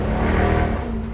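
A 2012 Mercedes C63 AMG 6.3 engine revs hard and close, a deep throaty roar rising then easing off with a rumbling burble.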